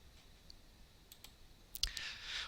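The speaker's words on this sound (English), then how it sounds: "simply by clicking the X button," A computer mouse clicks the X button to close a window, giving a few quiet, sharp clicks in an otherwise hushed room, with a brighter burst of clicking near the end.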